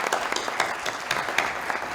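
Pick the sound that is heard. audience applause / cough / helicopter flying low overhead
audience applause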